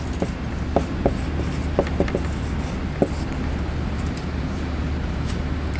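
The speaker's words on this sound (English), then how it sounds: "So I'm going to write this down." Pen or pencil writing by hand on paper, several small scratchy strokes and taps over a steady low room hum and faint traffic rumble, fairly quiet and close.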